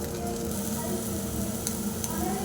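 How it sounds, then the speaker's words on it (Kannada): An egg paratha fries in oil on a hot tava, giving a steady, close sizzle that holds even and unbroken for the whole stretch, with no talking over it. "ಆಮೇಲೆ ಪರೋಟ ಹಾಕಿ ಮತ್ತು ಮೇಲ್ಗಡೆ ಸ್ವಲ್ಪ ಆಯಿಲ್ ಹಾಕಿ ಚೆನ್ನಾಗಿ ಫ್ರೈ ಮಾಡ್ಕೋಬೇಕು"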